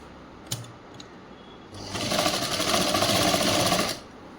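A sewing machine stitches a school uniform chudi top in a tailoring session: after a couple of faint clicks, a loud rapid whirring burst runs for about two seconds, then stops.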